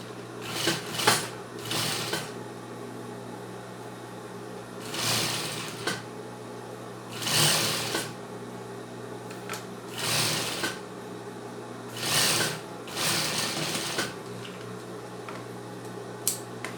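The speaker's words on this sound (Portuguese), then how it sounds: "Então, eu costurei uma parte, agora eu vou costurar a outra" A sewing machine stitching a cropped top, bursts of rapid mechanical whirring stitches separated by short pauses, close and fairly loud, repeated several times.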